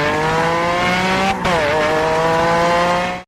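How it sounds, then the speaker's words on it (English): A luxury Lamborghini pulls up and stops, its engine holding a steady high whine that briefly cuts out and dips before carrying on, loud and close throughout. "A luxury Lamborghini comes and stops before Sam's gate."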